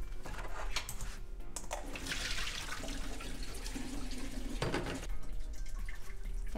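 Water pours and trickles as diced apple pieces are drained in a home kitchen, a steady splashing stream lasting several seconds with a brief louder gush near the end, no voices over it.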